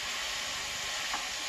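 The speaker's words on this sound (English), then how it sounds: "Now we're simmering this up, and basically we're gonna have this simmering in the olive oil" Chopped vegetables simmer in olive oil in a pan for a low-carb vegetarian butternut dish, giving a steady, even hiss of sizzling throughout with no voices.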